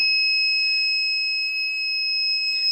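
A fire alarm on a model building's alert system sounds a loud, steady high-pitched electronic tone that holds unbroken throughout, with faint handling noise underneath.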